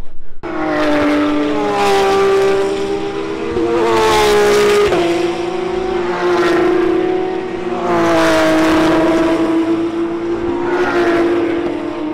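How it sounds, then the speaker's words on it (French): Loud, roaring race car engines of historic Le Mans Legends cars at the 24 Hours of Le Mans pass close by in repeated waves, each rising and falling in pitch as the cars sweep past, with no talking. "ça gueule très fort parce qu'il y a beaucoup de voitures qui ont des gros moteurs"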